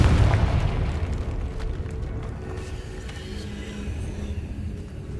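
A Confringo fire spell explodes in Hogwarts Legacy with a loud, deep boom at the start, then a long rumbling roar that slowly decays over several seconds.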